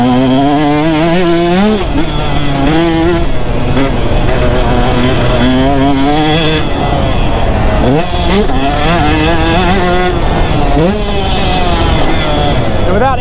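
A two-stroke dirt bike engine screams through repeated throttle bursts coming out of corners, revving up and dropping off in rapid cycles, loud and close, with a voice talking over it.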